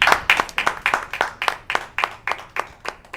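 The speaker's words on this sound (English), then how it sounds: "Round of applause for that." A small group at a live show claps in a steady, evenly spaced rhythm of about four claps per second, each hit distinct and close, with no voices over it.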